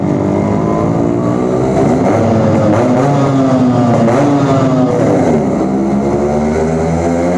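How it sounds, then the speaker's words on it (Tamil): A Yamaha RX100 two-stroke motorcycle revs loudly inside a tunnel, its engine note rising and falling with strong harmonic echo filling the space, continuous and close with no talking. "வேற லெவலில் இருக்குதுங்க, டனலுக்கெல்லாம் சவுண்டு பிச்சுக்குது."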